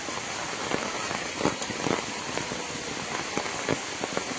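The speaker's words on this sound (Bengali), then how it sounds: "বৃষ্টি পড়তেই আছে" Rain falls steadily on a house and flooded yard in the early evening, a dense continuous patter with scattered louder drops and splashes, close and fairly loud, with no talk.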